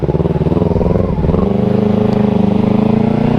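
A Kawasaki Z250 motorcycle is ridden with its engine loud and close, a steady, fast pulsing drone that dips briefly and then settles into an even, smooth hum.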